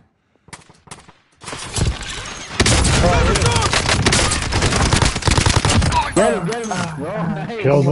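Rapid bursts of automatic gunfire in the video game Warzone, a few scattered shots followed by sustained loud volleys, with people talking over the shooting near the end.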